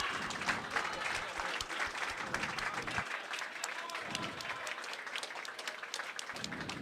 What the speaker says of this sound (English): Might be hearing clapping as teams come off the ice.